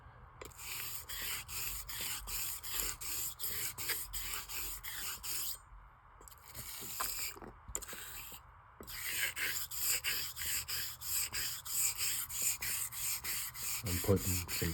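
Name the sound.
straight razor being honed, sharpening a bevel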